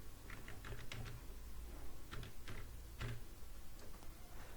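An OTP gets typed on a computer keyboard during an online scholarship registration, giving several quick bursts of soft, close key clicks separated by short pauses, quiet and with no voices.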